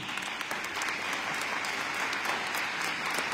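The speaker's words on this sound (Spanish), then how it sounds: "vamos a darle un fuerte aplauso a la palabra de Dios" A church congregation at Mass claps after the Gospel reading, a dense, even roar of many hands that sounds a little distant and roomy, with no speech on top.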